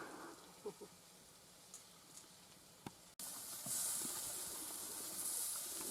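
Food cooking on a hot Newton Moore grill outdoors at an allotment, a quiet hiss with a few faint clicks that jumps to a steady, louder sizzle partway through and holds to the end.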